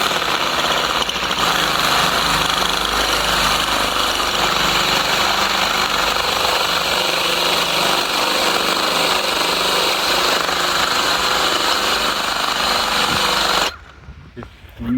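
A power tool with a rock-breaking bit drills into stone outdoors, a loud continuous hammering rattle that runs without pause for most of the stretch, then stops abruptly near the end.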